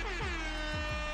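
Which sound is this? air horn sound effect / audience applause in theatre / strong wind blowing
air horn sound effect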